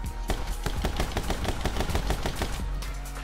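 Rapid gunfire from two guns at once in the video game My Friend Pedro 2, a dense, loud stream of sharp shots in quick rhythm with deep thuds underneath, no talking.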